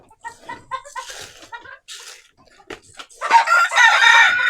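Egyptian Fayoumi chickens cluck and call at evening feeding time on a farm, a rhythmic series of close clucks building into a louder, overlapping burst of squawking toward the end.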